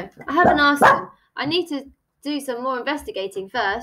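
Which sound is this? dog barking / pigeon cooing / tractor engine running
dog barking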